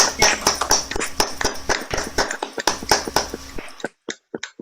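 Participants in an online conference clap after unmuting, giving uneven, overlapping claps that thin out to a few isolated ones before stopping.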